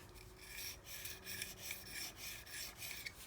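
A flat-bladed chisel rubbed back and forth on a natural green sharpening stone, a faint rhythmic rasping scrape repeating in steady strokes, with no voices.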